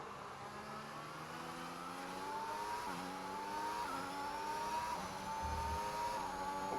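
An F1 2021 video-game race car spins out, its engine revving through rising and falling high-pitched sweeps over steady road and tyre noise, loud and continuous with no voices.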